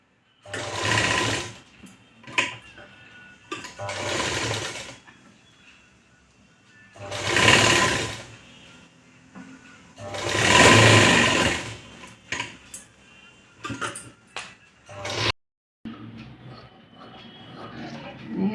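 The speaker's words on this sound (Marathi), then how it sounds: "पहा आता आपले शिवून झाले" Domestic sewing machine stitching a canvas strip for a boat-neck blouse neckline, heard in several loud bursts of rapid mechanical clatter separated by pauses, with no talking.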